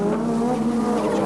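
A 1988 Australian Touring Car Championship race car driven hard out of a tight section at Sandown, engine roaring loud and close in the lower gears as power goes down and the rear steps out, steady and unbroken.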